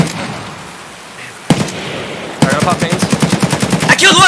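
Gunfire in the shooter game Escape from Tarkov during an early-wipe fight: a lone sharp shot, then a rapid rhythmic burst of automatic fire, loud and close, with no talk over it.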